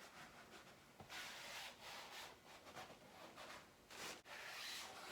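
Fabric is rubbed by hand onto a headliner board for a 2014 Ford Mustang S197, giving soft, repeated brushing and scuffing strokes, close and quiet, with no talking.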